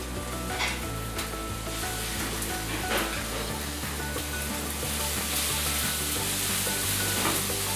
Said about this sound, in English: We will now add the yellow peppers and the red peppers.